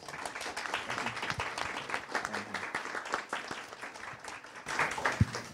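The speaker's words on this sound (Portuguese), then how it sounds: "Palmas, palmas, palmas." An audience at a panel discussion gives a long, even round of applause, a dense, fairly distant patter of many hands that carries on for several seconds.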